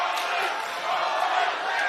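A crowd at a live Beatdown Promotions fight event roars in a steady, dense wash of cheering, with a commentator talking over it.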